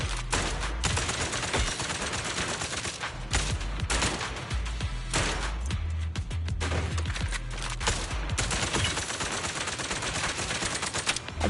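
Loud, rapid gunfire from the video game Zenless Zone Zero fills the scene, with dense back-to-back bursts running almost without a break.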